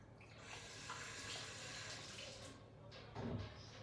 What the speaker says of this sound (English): So we need to wash our hands first.